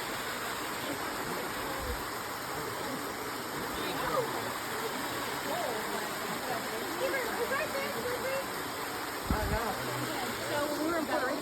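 A local waterfall at the end of a short hike in Georgia produces a constant broadband rushing roar, steady and fairly close, with a couple of dull thumps along the way.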